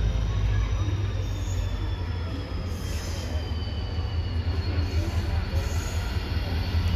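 Muzaffarpur–Porbandar Express (19270), a Western zone mail/express passenger train, running steadily with continuous loud rumble of wheels on rails and faint high wheel squeal throughout.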